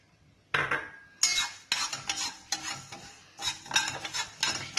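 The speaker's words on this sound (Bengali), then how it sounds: "এবারে আমি ফ্ল্যাক্স সিডসটাকে একটুখানি ড্রাই রোস্ট করে নেব" Flax seeds are dry roasted in a pan, heard as repeated scraping and stirring strokes of a utensil against metal, close and fairly loud, with light rattling of seeds between strokes and no speech.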